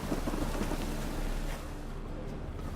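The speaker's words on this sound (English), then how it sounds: "A storm, damn it." Steady rain hisses over a low, rolling rumble of thunder during a storm in The Witcher 3, loud and continuous, easing slightly after the midpoint with no voices.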